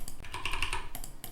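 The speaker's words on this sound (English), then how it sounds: "I can type something." A brief run of close, crisp keystrokes on a computer keyboard, several quick taps in a little over a second.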